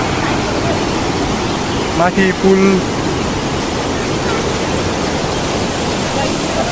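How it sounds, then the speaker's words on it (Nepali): A large mountain river, the Kate Khola in Baglung, Nepal, rushes with a loud, constant broadband roar close by, and a voice speaks briefly over it. "खोला एकदम ठुलो छ। यस्तो छ यो खोला।"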